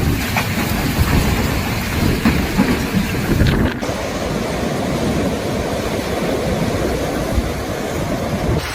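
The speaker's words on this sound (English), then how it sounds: "when the wind howled through every building" Violent windstorm with rain striking cities across Chinese provinces: a dense, steady roar of wind and rain fills the whole stretch, with a brief louder surge early on and no voices.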